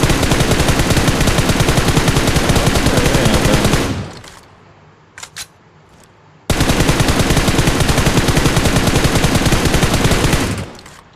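Rapid automatic gunfire in the mobile shooter BGMI rattles continuously for about four seconds, breaks into near silence with a couple of faint pops, then resumes in another sustained loud burst of equal intensity.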